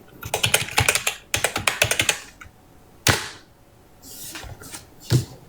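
Bursts of typing on a computer keyboard in a home livestream setting, quick clustered clacks in two runs, then scattered single keystrokes and taps, fairly close and clear with no talk over it.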